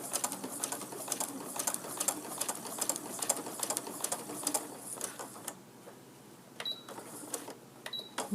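A sewing machine stitches a quilt appliqué in fast, rapid bursts of clattering needle strokes, fairly quiet and close, with brief pauses and a few faint high clicks.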